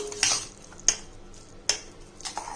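A spoon scrapes and knocks against a pot while hot papdi dough is stirred, three or four sharp clinks over a soft rustling background.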